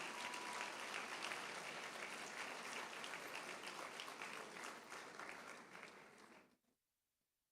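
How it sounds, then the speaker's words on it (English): Loud, full audience applause at an arangetram recital for the guru and the live orchestra, holding steady and then dying away to silence near the end. "So how about we give them a big round of applause as well."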